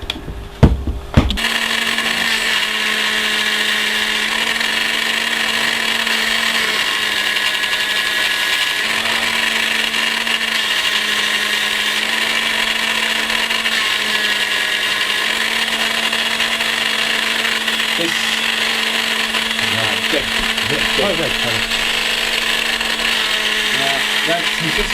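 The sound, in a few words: milling machine cutting a groove in a model ship mast piece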